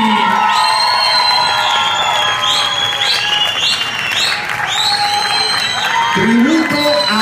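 A loud crowd claps, cheers and whoops to welcome the Santo Rico Dance Company at a New York Eddie Torres tribute show, with whistles rising above the sustained applause.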